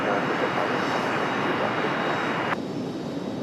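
A United airliner taxiing out from behind Terminal 2 at Raleigh-Durham airport gives a steady, broad jet engine roar, close and continuous, with a slight drop in level near the end.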